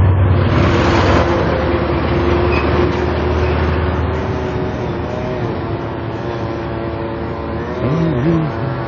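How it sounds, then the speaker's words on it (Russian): A car passes a cyclist on Kharkivska Street in Pechenihy, a steady broadband road and engine rumble that stays loud and close throughout, with a brief low tonal whine near the end. "Нас машина обгоняет,"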